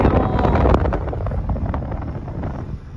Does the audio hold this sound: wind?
yes